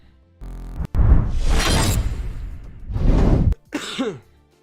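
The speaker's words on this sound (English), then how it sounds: "That's the one time I have not muted on my coughs" Several harsh coughs and throat-clearing bursts from one person at close range during a live card-game stream, coming in three separate clusters with short pauses between them.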